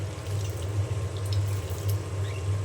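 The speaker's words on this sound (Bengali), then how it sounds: "এখন ভালো করে হাত দিয়ে কষলিয়ে ধুয়ে উঠিয়ে নেব।" Cut potatoes being washed by hand in a bowl of water in a home kitchen: soft, steady sloshing and dripping close by, with no talk.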